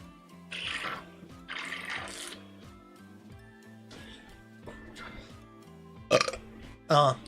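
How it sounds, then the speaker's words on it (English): Soft, wet burps come after drinking 100 Plus isotonic drink, two short gulping bursts near the end, close and moderately loud, with quiet speech and faint sounds earlier on. "So if I burp, kindly understand."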